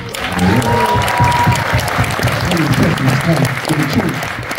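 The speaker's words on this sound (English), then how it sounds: "First round of applause for the 444." An audience at a film Q&A for The Book of Clarence breaks into loud, sustained applause and cheering, with voices mixed in under the clapping throughout.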